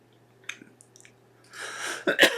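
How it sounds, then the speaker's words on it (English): A man coughs and clears his throat during a music technology class, a few small throat sounds first and then a longer harsh rasping cough burst close to the microphone. "I don't know why I'm coughing so much"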